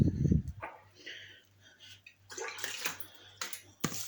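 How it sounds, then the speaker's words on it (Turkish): Drinking water pours into a jar for pickled beans, a short splashing gush followed by bursts of trickling and gurgling, fairly close and intermittent, with a low hum underneath. "Aldığı kadar da su koyacağız"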